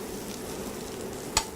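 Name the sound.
fennel sizzling in a pan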